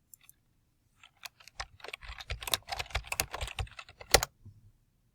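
Someone types a folder name on a computer keyboard, giving a quick run of soft, close key clicks with a few scattered taps before it, all fairly quiet.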